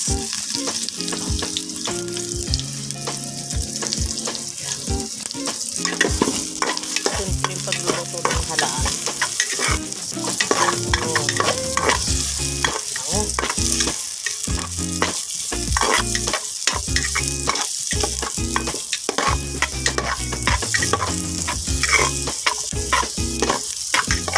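Ginger and onion sautéing in a pan for a clam soup: a loud, close sizzle and crackle with rapid spitting pops, plus the scrape of stirring all the way through.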